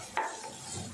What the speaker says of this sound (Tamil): வெங்காயம் சேர்த்துட்டு நல்லா வதக்கிடலாம்.